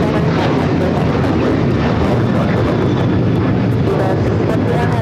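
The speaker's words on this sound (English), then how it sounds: "That is Alaska Airlines 1147 taking off to Seattle on the 737-900ER" An Alaska Airlines Boeing 737-900ER taking off from LAX, a loud, continuous broadband jet roar filling the whole clip.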